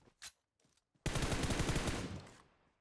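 Automatic gunfire in the game PUBG Mobile rattles off in a fast, loud burst lasting over a second, after a couple of faint earlier shots.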